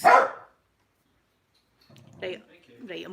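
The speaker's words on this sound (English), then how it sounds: "Dogs." A dog lets out one loud, sharp bark close by, followed by a pause and then people talking quietly.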